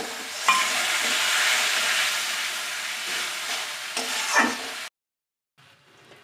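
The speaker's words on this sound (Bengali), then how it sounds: "ভালো করে কষিয়ে নেব মশলাটাকে, মিডিয়াম আঁচে রাখতে হবে" A spice paste is stirred and sautéed in a pan over medium heat, sizzling and frying steadily with scraping stirs for several seconds before the sound stops abruptly, followed by a faint quiet stretch.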